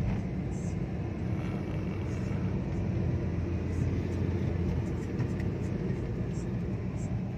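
A used Chevrolet Aveo drives along a busy road in the evening, heard from inside as a constant low engine and road rumble that runs steadily throughout.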